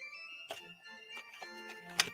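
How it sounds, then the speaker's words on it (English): Tinkling chime-like melody of ice cream truck music, a series of bright plucked or struck tones ringing out one after another at a moderate distance, with no voices. "Why does it sound like ice cream truck music?"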